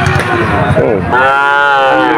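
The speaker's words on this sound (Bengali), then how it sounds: "55 থেকে 60 দারুণ দারুণ বাছুর এই হাটে আছে" A calf moos loudly and close at the Churighata cattle market in Jessore, one long drawn-out bellow after a rougher start, with no talk over it.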